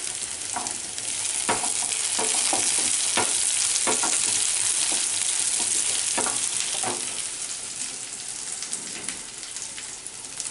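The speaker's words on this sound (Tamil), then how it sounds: "தாளிக்க கருவேப்பிலை சேர்த்துக்கலாம்." Steady, loud sizzling of curry leaves frying in hot oil for tempering, crackling and spattering throughout with a few sharper pops, close up and without talk.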